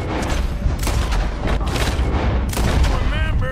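Gunfire in Red Dead Redemption 2, a loud volley of repeated gunshots and booms running the whole time, with a dense, continuous barrage and a few sharper blasts.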